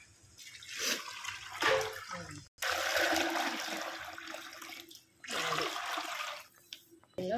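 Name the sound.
water poured into rice for cooking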